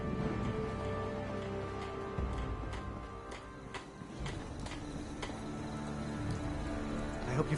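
Steady rainfall in Fallout 4, a continuous patter of drops on surfaces with occasional sharper taps and faint footsteps, moderately loud and unbroken with no talking.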